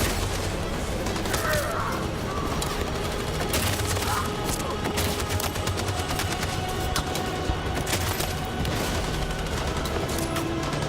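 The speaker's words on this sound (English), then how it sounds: "That machine gun is taking down everything that moves!" Sustained machine gun fire in the video game Detroit: Become Human, a dense, loud barrage of rapid shots and booms that runs without pause through the whole stretch.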